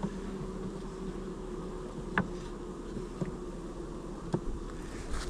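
Bees from a swarm housed in a bait hive hum in a steady, close drone, with a few faint clicks over the buzz and no voices.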